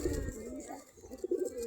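Local Giribaz pigeons sit at their coop, giving soft, low cooing calls from close by, faint and intermittent.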